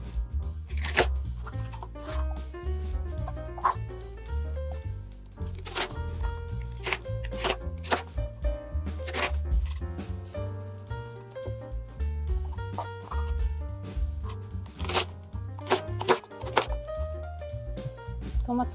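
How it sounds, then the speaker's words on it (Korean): Knife slicing two and a half onions on a board, a long run of quick, crisp, close cuts in uneven bursts with a few short pauses, no talk. "레시피는 뭐 양파 2개 썰어주시면 좋다고 하는데 저는 2개 반 정도"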